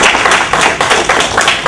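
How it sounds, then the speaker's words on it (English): A group claps at a summer leadership camp, a close, loud round of applause with individual claps audible in an uneven patter and no talk. "Let's give ourselves a round of applause and the young people."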